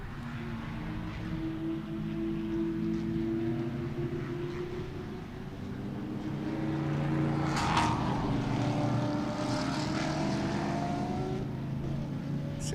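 Sports cars racing at Sebring International Raceway produce a continuous, moderately distant engine drone with sustained tonal harmonics, swelling slightly as cars pass and fading again.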